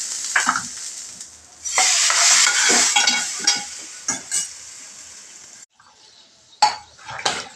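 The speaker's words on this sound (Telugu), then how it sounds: "సో ఇప్పుడైతే బాగా కలుపుకోవాలి వాటిని." A spoon stirs brinjal and potato masala curry in a metal pan, giving scraping, clinking strokes with a soft sizzle underneath. The stirring comes in bursts, pauses briefly, then picks up again up close, with no talking.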